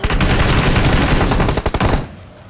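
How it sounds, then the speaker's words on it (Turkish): Rapid bursts of automatic gunfire in a video game crackle loudly and continuously, then break into a few separate shots before fading out. "Ben Amigo'nun vücuduna sıktım öyle patladı."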